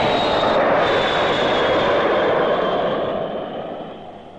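An airplane passes overhead with a loud, steady roar and a faint high whine. The sound slowly fades as the aircraft moves away.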